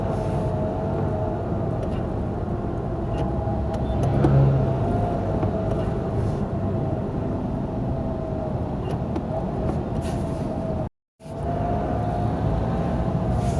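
Steady engine and road drone from an Isuzu MU-X SUV with automatic transmission driving in traffic, heard from inside the cabin as an even, continuous rumble with a brief dropout near the end.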